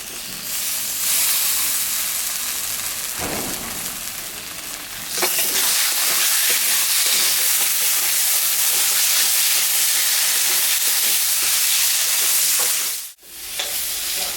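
Green chillies and tomatoes fry in a spiced curry base for a potato, tomato and puti fish jhol, a loud, close, continuous sizzle and steamy hiss with stirring scrapes, swelling when the tomatoes go in and cutting off sharply near the end.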